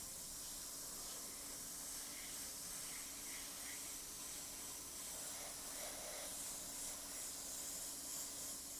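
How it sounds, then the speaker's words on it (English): An airbrush steadily puffs air over fresh paint to dry it, a continuous close hiss lasting the whole stretch with slight swells and no talking. "just puff a bit of air over it to dry it down"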